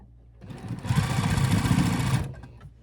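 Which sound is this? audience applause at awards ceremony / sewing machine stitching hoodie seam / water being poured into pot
sewing machine stitching hoodie seam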